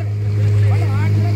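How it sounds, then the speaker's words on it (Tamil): A vallam, a traditional wooden boat, rocks on the open sea off Araly, Jaffna, during a sailboat race, with a loud, steady low motor hum and wash of water and wind, with faint talk in the background. "நாங்கள் சென்று கொண்டிருக்கக்கூடிய வல்லம் ஆடிக்கொண்டிருக்கின்றது."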